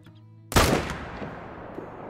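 A single loud M1 rifle shot fired at a bear roughly 320 yards out in the hunting game Call of the Wild, a sharp crack after half a second of quiet, then a long rolling echo tail fading away.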